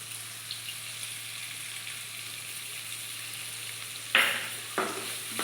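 Carrots for vegetarian flattened-rice pulao frying in a pan, giving a steady, quiet hiss of oil, with two brief sharper scrapes of stirring near the end.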